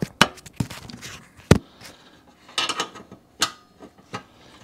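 Small nut being turned onto a bolt with a 10 mm spanner while fitting a diesel heater fuel pump, giving a series of close, sharp metallic clicks and ratchety taps in short irregular bursts.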